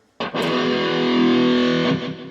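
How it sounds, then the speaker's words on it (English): A loud electric guitar chord with heavy distortion strikes and sustains, thick and buzzing, for about two seconds before fading slightly. "we're going to put the distortion on here for this one."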